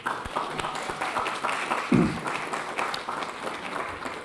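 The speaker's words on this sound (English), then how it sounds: "let's give them a big round of applause" A crowd at a school board meeting claps steadily, a brief round of applause filling the room at moderate volume.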